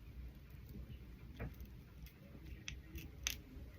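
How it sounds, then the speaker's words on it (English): Scissors cut at an angle through twisted synthetic wig hair, giving a few faint, crisp snips over a low steady background hiss. "I'm just going to go in at an angle with my scissors"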